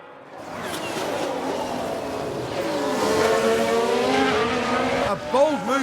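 An Alfa Romeo Formula 1 car in the racing game F1 Manager 2022 screams past with a rising, sweeping engine whine, then brief tyre squeal and sharp pitch swoops near the end.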